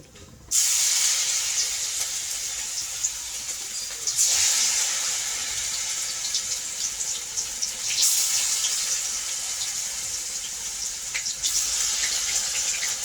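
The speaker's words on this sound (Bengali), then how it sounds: "এবার আমি বড়া ভাজবো মানে পকোড়া" Bora fritters (pakora) fry in hot oil with a loud, steady hiss and sizzle that fills the whole stretch. The hiss swells in waves as more batter drops in, and no voices come through.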